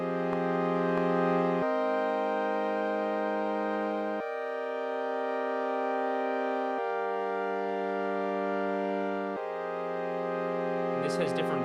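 Sustained OB-Xa synth pad with an airy, ethereal tone, holding long chords in several voicings that change every couple of seconds, steady and fairly loud with no talk.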